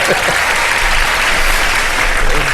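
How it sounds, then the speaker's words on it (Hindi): Studio audience at a televised Ramadan iftar show bursts into loud, continuous applause, with dense clapping that holds steady for the whole moment. "इकरार भाई के लिए तालियां।"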